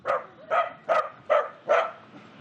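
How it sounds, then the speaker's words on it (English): A guard dog on a moored boat barks five times at an even pace, loud and close, each bark short and sharp with brief quiet gaps between. "Guard dog."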